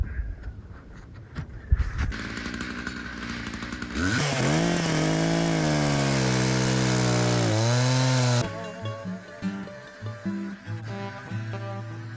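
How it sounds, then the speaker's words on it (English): A chainsaw, already warmed up, starts with a pull and roars loudly at high revs for several seconds, then drops back to a rough, sputtering idle, used with a Granberg EZ Rail sawmill guide. "I've already ran a chainsaw for a little bit, heated it up."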